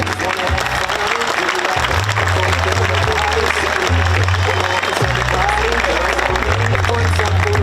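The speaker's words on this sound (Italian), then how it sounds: "Il primo applauso di questa nottata va a tutte le donne di Novi Ligure qui presenti." An audience at the Miss Novi regional final of Miss Italia Piemonte Valle d'Aosta applauds the women of Novi Ligure, steady dense clapping throughout with crowd noise and a pulsing low music beat beneath.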